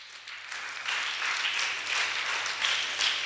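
Audience at a Sunday church children's gathering breaking into applause, a steady patter of many hands clapping that swells slightly and continues for a few seconds.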